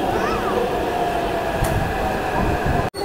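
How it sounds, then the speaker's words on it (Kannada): A Hyderabad metro train pulls into a station with a continuous loud rumble and rail hum. A brief high whine rises partway through, and a sharp break cuts in near the end. "ಬಂತೆ ನೋಡಿ ಮೆಟ್ರೋ"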